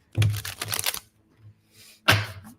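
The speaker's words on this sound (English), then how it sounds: "That was a good shuffle right there." A deck of cards shuffled by hand, heard as a close, crisp riffling burst of about a second, then a brief pause and a second shorter riffle, with no talking.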